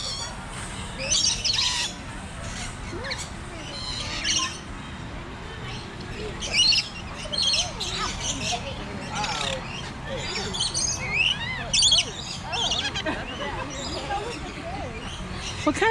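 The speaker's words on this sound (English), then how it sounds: "What kind of birds were they, Katie?" Colorful zoo birds squawk and chirp in a busy, continuous chorus of sharp calls, with people talking nearby throughout.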